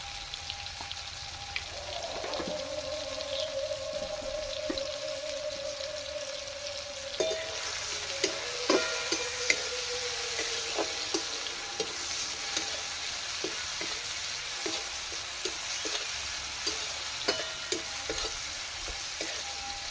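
Chopped tomatoes with salt sizzle in a pan while a spatula stirs them. The frying hiss is steady and close, broken by a run of light metallic clinks and scrapes as the stirring goes on.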